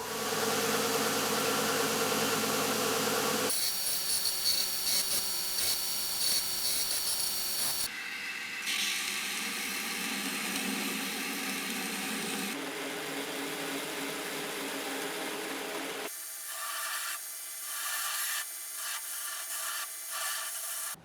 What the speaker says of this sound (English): Now I'm gonna just take this onto the grinder, shape that guard up